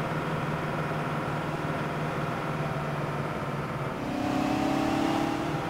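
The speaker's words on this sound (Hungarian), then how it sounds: "Hát ugye 16 hengeres V-motor dübörög benne, dupla kipufogó." A Big Bud tractor's V16 engine with twin exhausts in Farming Simulator 17 drones steadily and loudly, then its pitch climbs sharply near the end as it revs and accelerates.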